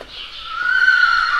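A horse in the village of Charlottenburg lets out a single close, loud whinny that rises and holds as a shrill drawn-out cry.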